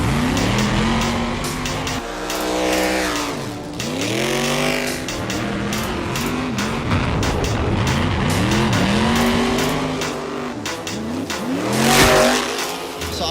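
Stunt car engine revs hard in loud, sweeping surges with tires squealing and skidding throughout, a continuous roaring run that swells again near the end.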